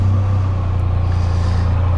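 A vehicle fitted with an Akrapovič exhaust idles nearby with a steady, deep, throbbing rumble that stays even and unbroken.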